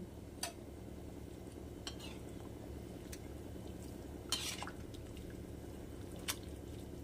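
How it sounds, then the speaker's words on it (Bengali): Quiet stirring of vegetable khichuri in a pot, with a few sharp clinks of a spoon against the metal over a low, soft simmering background. "একটু নাড়িয়ে দিলাম।"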